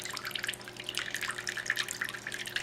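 Water trickles and drips steadily over stones in a small homemade tabletop fountain, a soft continuous patter close by with no voices.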